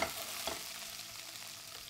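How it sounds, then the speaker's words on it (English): Sausage and peppers fry in a pan, a close, continuous sizzle with a quick stir or two near the start, with no talk. "We're going to put them in there. It's sausage and peppers."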